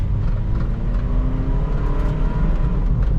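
A 2016 Perodua Bezza 1.3 Advance automatic pulls away with a steady, rising engine whir heard from inside, continuous and moderately loud, with no talking.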